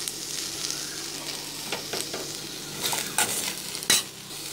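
Pepper chicken masala sizzles in a pan, a continuous frying hiss with a few sharper stirring scrapes and clinks toward the end.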